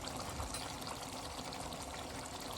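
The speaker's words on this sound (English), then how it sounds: "Now I'm going to pour gizzard on it." Gizzards are poured into a frying stew, giving a faint, steady wet sizzle and hiss without pause over a few seconds.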